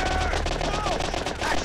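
Rapid gunfire from the arcade light-gun shooter Time Crisis, played on a PS1 emulator, rattling continuously and loudly through the whole moment with game sounds and a voice mixed in.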